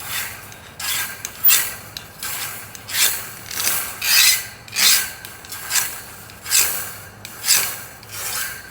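A hand file rasps over the freshly cut end of a metal wire plant cage, about a dozen steady back-and-forth strokes at an even rhythm, close and clear with no talking.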